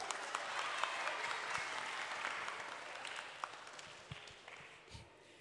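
A seminar audience at a talk on becoming a millennial Islamic preacher gives lively applause, a dense wash of clapping that gradually thins and fades, with a few scattered claps trailing at the end.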